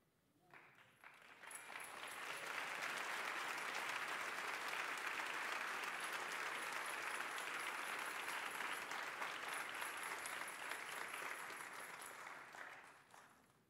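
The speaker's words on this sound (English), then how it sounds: "The applause you hear is our way of saying welcome." A large church congregation applauds steadily, loud and sustained for over ten seconds, swelling at the start and tapering off at the end.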